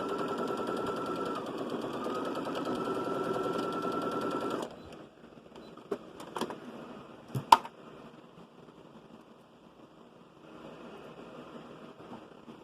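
A sewing machine stitching a seam on a children's dress runs in a steady fast whir for several seconds, then stops, leaving a few sharp clicks and a quiet room.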